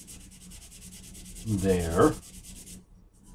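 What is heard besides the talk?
sandpaper sanding primer on 3D printed parts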